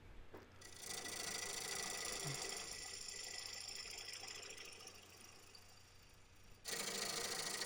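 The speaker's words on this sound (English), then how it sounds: "I'm going to take my 1/2 inch 55-degree bevel swept back bowl gouge and start shaping the tenon for this bowl" A half-inch swept-back bowl gouge with a 55-degree bevel cuts the tenon of a wood bowl on a lathe, giving a steady, loud scraping hiss over the motor hum, briefly dropping near the end before surging back.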